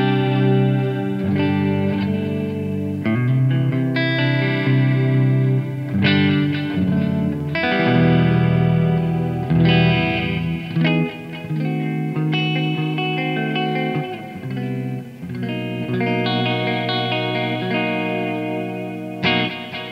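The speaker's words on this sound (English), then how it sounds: "there's a lot more than just a single delay sound happening there" Electric guitar played through an MXR Joshua Ambient Echo delay pedal into a dry amplifier, sustained chords and notes blooming into layered repeats and a wide ambient wash, continuous and loud with no talking.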